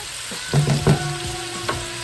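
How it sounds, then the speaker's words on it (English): Salisbury steak patties frying in a pan, soft crackling sizzle with scattered pops and clinks, a couple of louder bursts in the middle. "All those patties are cooking."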